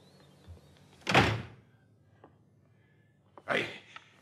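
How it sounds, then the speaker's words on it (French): A door is pushed shut, heard as two soft, quiet whooshing thumps a couple of seconds apart in an otherwise hushed indoor room. "fermez la porte."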